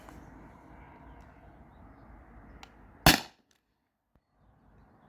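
A single sharp shot from a stock Beeman BP50 air pistol cracks out loudly above a low background hum, then quiet follows.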